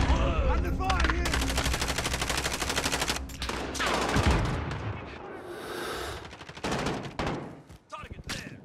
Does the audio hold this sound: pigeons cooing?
no